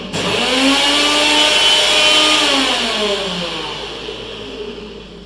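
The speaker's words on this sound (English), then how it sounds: "No problem, just grind it again." A kitchen mixer grinder runs loud and close, its motor whining steadily with a slowly shifting pitch before easing slightly toward the end. No one speaks.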